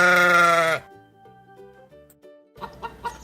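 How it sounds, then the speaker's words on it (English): A sheep gives one loud, close bleat at the start, followed by quieter background sounds and soft clucking-like calls. "I hear a sheep."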